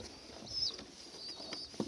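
Young Mikołajewski pigeons coo faintly in a loft, with soft low calls and light rustling, one brief sharper sound near the end.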